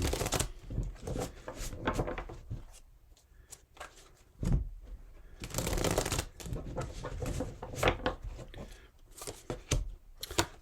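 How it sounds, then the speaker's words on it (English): Tarot cards being shuffled close by, repeated papery riffles and slaps in irregular bursts over a quiet room. "Let's just give these cards 2 or 3 shuffles."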